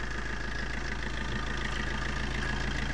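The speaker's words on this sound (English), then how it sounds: "There it is, the multi-jet engine ticking away." A 2009 Fiat Doblo Cargo van's multijet diesel engine idles steadily and close by, with a low, even rumble and a faint, regular ticking and no knocks.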